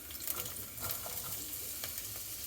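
Chilies and onions frying in a pan for a spicy masala couscous, a steady close sizzle with soft stirring scrapes running throughout, no voices.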